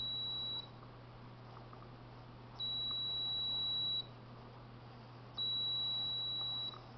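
A hidden wiring detector held to a wall sounds a thin, high-pitched electronic tone in three long steady beeps, separated by short pauses, over a low hum.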